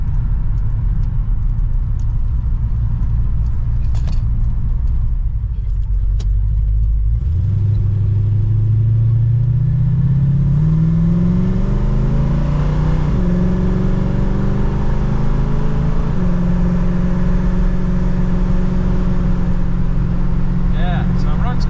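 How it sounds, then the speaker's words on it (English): A Mercury Cougar with a 2.47 rear gear drones loudly from inside while cruising, a steady low engine hum that rises in pitch midway as it accelerates, then settles into a constant road-speed roar. "Everything's running good. Car sounds good."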